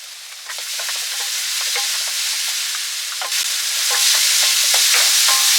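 Bok choy stir-fried with sesame oil and oyster sauce, a loud, bright sizzle throughout with repeated clattering utensil strokes, growing fiercer toward the end.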